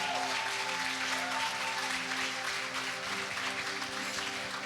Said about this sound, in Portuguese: aplaudam eles também.